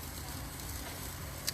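Meat searing in a hot pan during a Father's Day dinner cook, a soft steady sizzle heard close up with a faint crackle near the end.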